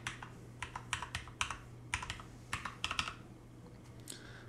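Quick, light keystrokes on a computer keyboard enter an IP address into a server storage setup form, irregular clusters of close, crisp clicks with short pauses and no talk.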